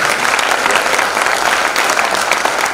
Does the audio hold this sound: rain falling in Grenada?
no